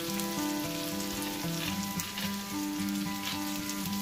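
Onion frying in a pan over medium heat, a steady close sizzle and crackle running continuously with a faint tonal hum beneath it.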